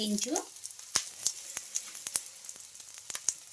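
Green chilies frying in a pan give a close, crackling sizzle with sharp pops scattered at an irregular rhythm, after a brief moment of speech at the start.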